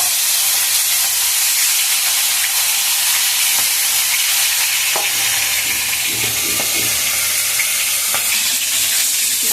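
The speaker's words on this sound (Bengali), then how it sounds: "বাকি মাছগুলো আমার সব ভাজা হয়ে গেছে" Pieces of Sankar fish, a stingray, sizzling loudly in hot oil in a pan, a dense continuous hiss and crackle with occasional stirring clicks, close and with no talk.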